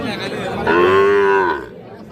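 A young Nepali Gir bull calf lets out one loud, drawn-out moo close by, rising in the middle and fading away, with quiet background noise.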